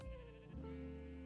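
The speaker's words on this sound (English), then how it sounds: "I named all the sheep Jeb" Minecraft sheep bleating in a video game, one clear wavering bleat close up and alone, with no talk.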